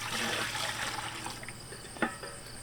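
Kombucha vinegar poured into a pot, a continuous trickling splash that fades toward a faint drip, with a single small knock near the end.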